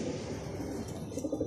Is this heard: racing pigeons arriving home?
yes